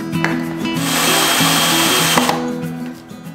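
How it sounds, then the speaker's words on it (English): A power drill drives lag screws into a wooden home-built work stand, its loud steady motor whine rising for about a second and a half between shorter bursts, close up with no talk. "I'm securing it with some lag screws"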